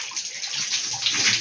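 Tap water pours steadily into a bath, a loud, close, continuous rushing splash with slight sloshing, no voices.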